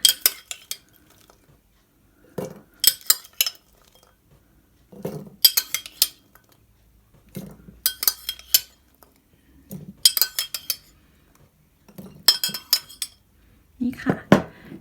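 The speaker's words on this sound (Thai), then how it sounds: "เอา ตัวกระเทียมนะคะ ใส่เข้าไปเลยค่ะ ใส่เข้าไปในโหลเลยนะคะ" Wild single-clove garlic dropped by hand into a glass jar, heard as repeated bright clinks and knocks in short bursts every couple of seconds, close up, with someone talking between them.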